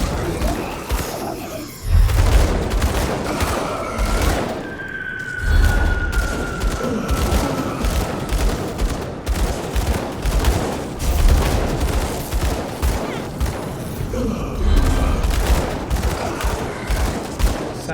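Repeated gunfire from ranged weapons in the action RPG Grim Dawn, sustained bursts and heavy booms running through the whole stretch, loud and busy with a combat din beneath.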